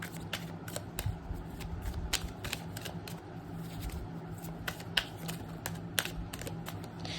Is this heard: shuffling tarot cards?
yes